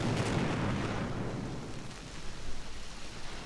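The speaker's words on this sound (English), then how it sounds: "we're firing back with our one turret, our two guns" Naval gun turrets booming in a Jutland-era battleship battle game, a broad rumbling roar of heavy fire that swells at first and then rolls on steadily, distant and low with no speech.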